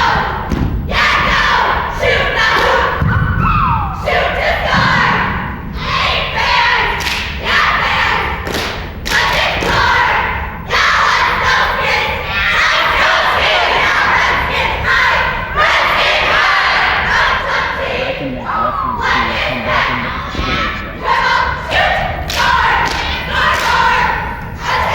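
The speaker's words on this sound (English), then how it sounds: "Nice crowd response there." At the 1999 competitive cheerleading finals, a loud crowd cheers and yells without letup, with heavy thumps and stomps from the routine throughout and bursts of shouting rising over the din.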